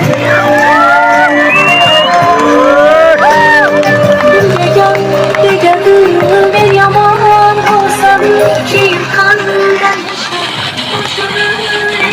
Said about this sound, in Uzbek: Gulroz qarsak bo'lsin.